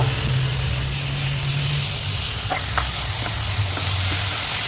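Onion and turmeric paste frying in a pan for a Karnataka-style sambar, with a steady broadband sizzle and a few soft stirring knocks, close and continuous with no talking.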